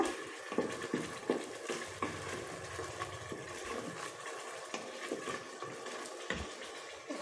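Salted potatoes and peas being stir-fried in a pan for aloo matar bhuna, a steady close sizzle with scraping stirs and occasional clinks of the utensil against the pan.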